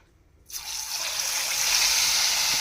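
Tap water runs steadily and close by, gushing into a sink for rinsing fish in a home kitchen, with a sudden start after a brief silence and no talk over it.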